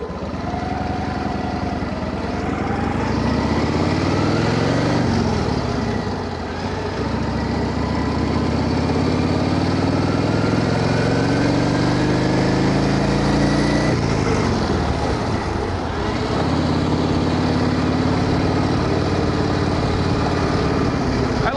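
A 1931 Indian 101 Scout motorcycle engine runs loud and close, its note rising and falling through gear changes, with brief speech mixed in.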